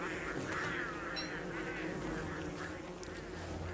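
Bees buzz steadily in the survival video game Don't Starve, a continuous droning hum over the game's low ambient background, with no talking.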